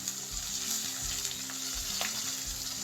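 Ginger paste fries with meat in a hot pan, giving a continuous close sizzle with faint stirring, alone without voices.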